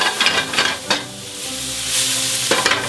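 Shallots sweating in a steak pan, a loud close sizzle broken by several brisk stirring scrapes.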